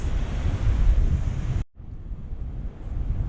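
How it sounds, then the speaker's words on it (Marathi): Rough sea waves and gusting wind during a storm on the coast where fishing boats are hauled ashore, a loud close rushing roar that cuts out briefly midway and then returns somewhat quieter. "आजचा हवामान खूप बेकार झालाय वादळ झालाय समुद्रात त्याच्यामुळे लाटा पण भरपूर येतात आज"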